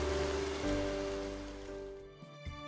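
Rain falls in a cartoon scene as a soft, steady hiss of downpour, fairly quiet, fading out after about two seconds into near silence with a couple of faint taps.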